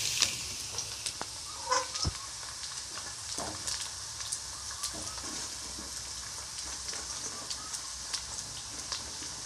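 Potato pieces fry in hot oil for a Bengali rui fish and potol rasa, a continuous soft bubbling sizzle with scattered small pops and a few utensil taps, moderately close and unaccompanied by speech.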